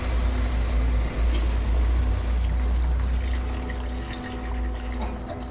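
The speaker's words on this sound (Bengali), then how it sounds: "এবার জল দিয়ে দেবো" Water poured into fried fish-curry masala in a pan, a loud rushing pour over a steady low rumble that eases slightly toward the end.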